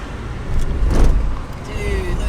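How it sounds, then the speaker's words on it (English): A car passes close by on a rural road, a loud whooshing rise and fall of tire and engine noise heard from inside another vehicle, with talk around it. "Hold up, no, we got a car coming."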